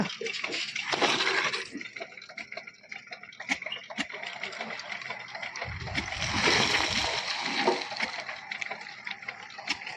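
Water gushes and splashes heavily from a borewell, a loud steady rush with a deep surge midway, while voices talk faintly over it.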